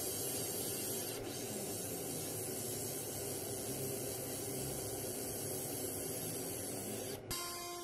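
A ComMarker B4 60W JPT MOPA fiber laser engraves metal in fill mode with crosshatch passes at 40 kHz, giving a steady, loud, hissing buzz that runs unbroken and shifts tone briefly near the end.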